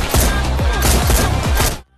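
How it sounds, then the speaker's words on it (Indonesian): Rapid gunfire in a film scene, a dense volley of loud, overlapping shots with booming low thuds that rolls on for nearly two seconds, then cuts abruptly to near silence. "Raffi menembak mati Mendagri Mudi Reddy"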